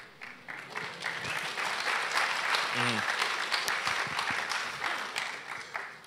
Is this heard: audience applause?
yes